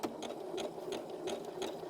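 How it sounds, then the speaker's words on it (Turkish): A sewing machine runs a zigzag stitch along the hem of jeans, its needle beating in a fast, even rhythm of close mechanical ticks over a steady motor whir. "Dikiş makinemin zikzak ayarını ayarlıyorum"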